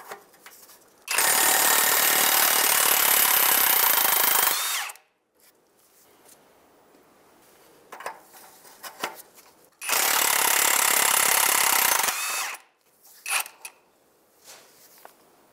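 A power tool removes 15 mm exhaust flange nuts on a 2007-2015 Mazda CX-9 catalytic converter, with two loud sustained whirring bursts of several seconds each, separated by quieter clinks and rattles of loosened hardware.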